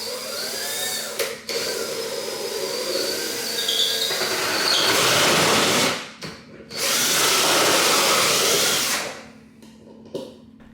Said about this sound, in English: I'm using this adjustable hole saw, which is really a luxury tool that not only makes perfect holes